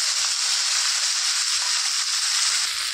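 Brinjal and tomato pieces sizzle steadily in a hot oiled pan for a mixed vegetable curry, a continuous close frying hiss with faint stirring knocks and no voices.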